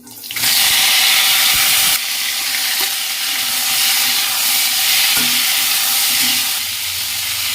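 Chopped chutney ingredients hit hot oil in a pan, setting off an abrupt, loud hissing sizzle that settles into a steady, dense frying crackle with faint clinks of stirring.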